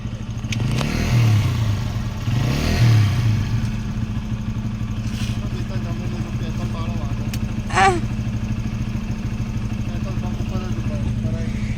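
A motorbike ridden at a birthday get-together, its engine a steady close drone through the whole stretch with a couple of louder revving surges early on, while voices chatter over it.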